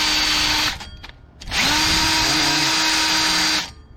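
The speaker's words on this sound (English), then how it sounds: "I like to use this tool to clean up the surface. That way I can eliminate some of that rust over there." A power tool whirs loudly up close against the rusty rear brake rotor of a 2018 Honda Accord Sport, running in two sustained bursts with a short spin-down and restart between them.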